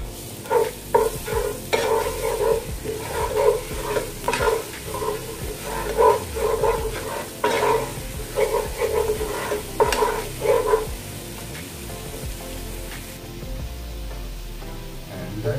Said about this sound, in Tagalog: Panayin natin yung garlic.